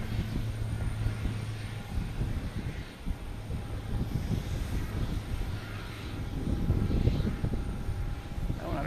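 A Boutique Air small plane takes off at Boston Logan Airport, its engine a steady broadband drone that holds close and even throughout and swells slightly toward the end, with faint background airport rumble.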